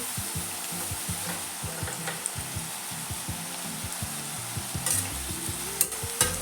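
Chopped spring onion greens roast in a hot pan with steady sizzling while a utensil stirs and scrapes them in quick repeated strokes, close up with no voices.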